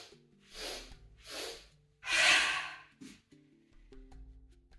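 Open-mouth exhalations during a yoga breathing sequence, three strong breathy whooshes close to the mic, the third loudest and longest, separated by quiet pauses with faint background tones.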